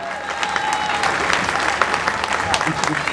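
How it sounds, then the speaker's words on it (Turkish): Festival crowd applauding the organisers at the Halikarnassos İki Yaka culture festival in Bodrum, a dense steady wash of clapping from a large outdoor audience with a voice faintly underneath. "Onlara büyük bir alkış rica ediyorum sizlerden."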